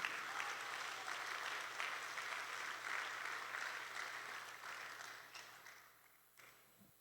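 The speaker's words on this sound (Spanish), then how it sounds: "Dele fuerte un aplauso al Señor" A church congregation applauds the Lord during a sermon, a steady, even wash of many hands clapping, heard somewhat distant and soft, easing slightly before stopping near the end.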